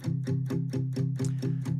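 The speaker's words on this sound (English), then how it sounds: "So we have these acoustic guitars that sound like this." Strummed acoustic guitar in a beat intro, steady evenly spaced chord hits repeating close and clear, without any voices.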